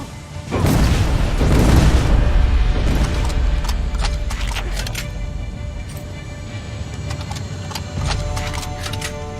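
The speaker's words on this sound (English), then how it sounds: "Rocket!" Rocket explosion in the shooter game Terminator Resistance: a loud booming blast near the start that rumbles and decays over several seconds, followed by scattered crackling impacts and a second smaller thump.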